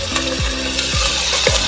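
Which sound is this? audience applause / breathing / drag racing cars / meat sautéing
meat sautéing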